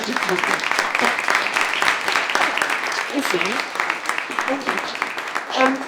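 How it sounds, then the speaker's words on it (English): A panel audience at a circular economy event gives a round of applause for the players, with continuous clapping throughout and some voices underneath. "We've given a massive round of applause to our players."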